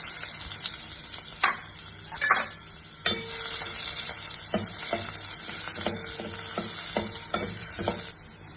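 Finely chopped onion fries in hot coconut oil, giving a soft, steady sizzle with scattered clicks and scrapes of a spoon stirring in the pan, fairly quiet and close.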